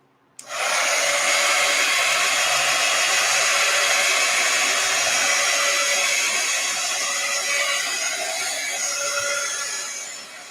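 A hair dryer drying a piece of artwork switches on sharply and runs as a loud, steady close whoosh and whine for about ten seconds, easing off slightly toward the end.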